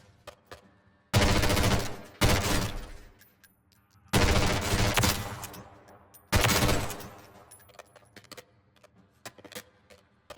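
Full-auto bursts from the JAK Nightshade gun in a video game, three or four long loud sustained volleys with brief pauses between, close and dominant with no talking.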